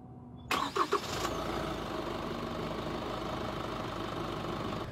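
A 2018 Chevrolet Colorado ZR2 diesel idles with the hood down, a steady low clattering rumble after a couple of brief louder thumps at the start, continuous and fairly close.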